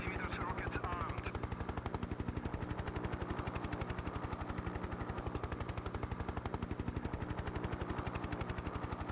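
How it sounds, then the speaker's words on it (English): Gunfire and helicopter rotor from the 1996 Hind helicopter combat game. A dense, rapid, evenly pulsing rattle runs through the whole stretch at a steady level, with a faint voice underneath. "Something shooting at me still."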